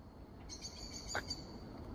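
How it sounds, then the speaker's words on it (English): A single brief bird call sounds faintly through a quiet, misty, damp woodland, a short high note rising once over soft ambient hiss. "I heard a bird at last"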